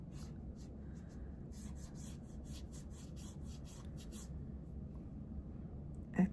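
Soft, rhythmic rubbing strokes of a brush pen activating watercolor pencil on textured watercolor paper, close and quiet, in a quick series that fades into faint hiss.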